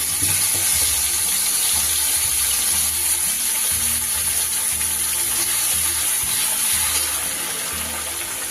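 Spice paste frying in hot oil with a bay leaf and small cardamoms tempered in it, for a rohu fish curry; a steady, dense hiss runs close and loud throughout with low clattering underneath.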